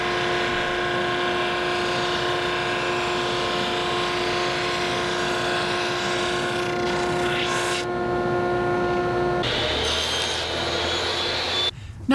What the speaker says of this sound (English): I'll resaw it and then run it through my drum sander to get it nice and flat.